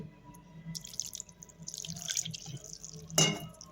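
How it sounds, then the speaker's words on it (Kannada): Water is poured onto flattened rice in a bowl while making idli batter, a soft trickling splash with a few drips and one brighter splash near the end, faint and close. "ಆಮೇಲೆ ಸ್ವಲ್ಪ ನೀರನ್ನು ಹಾಕ್ಕೊಳ್ಳಿ."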